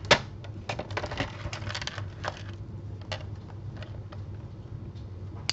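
Card paper being trimmed on a paper trimmer, heard as a series of close, quiet ticking clicks and sharp snaps, denser at first and then sparser, with no voice.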